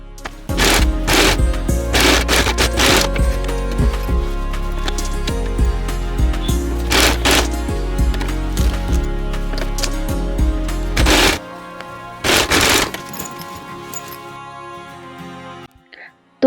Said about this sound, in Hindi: तीनों को इस तरह से जॉइंट करते हुए ऊपर से सिलाई लगा देंगे